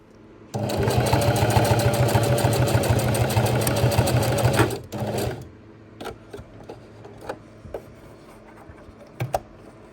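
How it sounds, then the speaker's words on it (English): A sewing machine stitches velcro onto a tarp ridgeline loop in one loud, continuous whirring run of about five seconds, then stops, leaving scattered light clicks and handling noises. "I'm going to sew a piece of velcro on like that"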